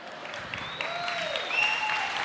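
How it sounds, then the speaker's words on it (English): Recorded applause played over the sound system at a church youth festival in Goa, a steady wash of clapping with faint electronic tones running through it. "If you don't know how to clap, the sound system knows how to clap."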